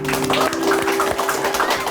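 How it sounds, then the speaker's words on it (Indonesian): A studio audience claps for the elderly guests on a talk show, a brief steady burst of applause with a few cheers mixed in and a voice speaking over it. "kita kasih tepuk tangan dulu untuk engkong-engkong kita luar biasa"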